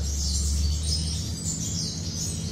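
A caged five-colour sunbird gives a faint, thin high twittering over a steady low background hum, with no voices.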